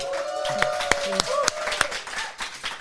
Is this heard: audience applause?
yes